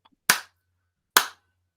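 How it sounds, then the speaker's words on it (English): Two sharp hand claps about 0.85 seconds apart, close and crisp with a short decay, each standing alone in silence to show a latency gap. "I'll clap my clap and then I'll clap the distance between my clap and your clap at this end"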